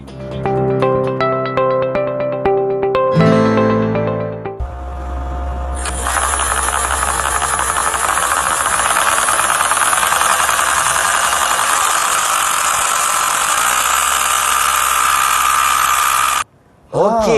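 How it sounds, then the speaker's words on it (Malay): An animated engine movement simulation in a science lesson plays a steady, loud mechanical whirring and rattling, preceded by a few seconds of music, running continuously until a brief cutout near the end. "itu tadi simulasi pergerakan enjin"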